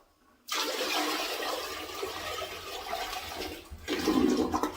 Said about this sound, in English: I like my bucket of water, because I'm just going to pour it down in there directly all at once